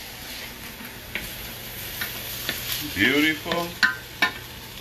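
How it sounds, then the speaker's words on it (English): Food sautés in a pan with a faint, steady sizzle, broken by a few utensil taps and scrapes, while someone speaks briefly. "Now, we got this right here sauteing down."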